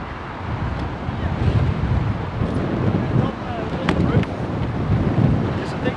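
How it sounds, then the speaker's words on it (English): Strong wind buffeting a microphone outdoors at Heathrow Airport, a loud, rough, continuous rumble with gusty swells and faint higher whooshes and no clear speech. "wind is picking up."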